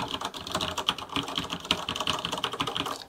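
Fast typing on a Roccat Ryos TKL Pro mechanical keyboard, a dense, rapid stream of close clicking keystrokes running continuously with no talk.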